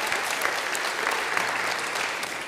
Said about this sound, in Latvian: Aplausi arī laimīgākajai sievietei Latvijā ziemas periodā Mele butika īpašniecei Tatjanai Taurēnai.